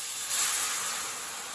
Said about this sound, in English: I'm going to pour some of this hot water in there.